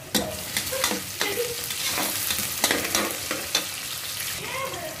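Onions sautéing with a little salt in a pan for samba rava kichadi, a steady close sizzle broken by repeated scraping stirs of the spoon, no voices.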